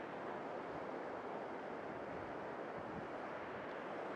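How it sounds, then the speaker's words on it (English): Water spills over rocks in a small outdoor waterway, giving a steady, close rushing wash that stays even throughout, with gusts of wind noise on the microphone and no voices. "look at this lovely little waterway, and the way the water's spilling over this"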